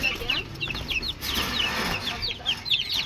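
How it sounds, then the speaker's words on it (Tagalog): Hungry chicks and ducks being fed outdoors give rapid, high chirps and cheeps in quick bursts, with some clucking among them, fairly close and continuous over a light background. "Gutom na ang mga sisiw. Sa labas kumain."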